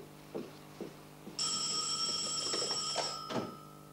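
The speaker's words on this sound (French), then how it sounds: "la sonnerie du téléphone donne le signal de la compétition" A telephone bell rings loudly and continuously for about two seconds, preceded by a few soft knocks and followed by faint rustling, heard indoors at moderate distance.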